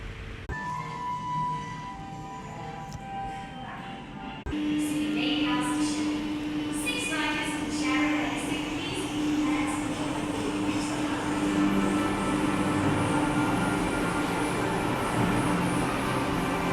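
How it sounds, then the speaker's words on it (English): Interior of a riding monorail: a steady rolling rumble with a sustained mechanical whine that grows fuller as the car gets underway, continuous throughout. "I'm going to hop on the monorail now"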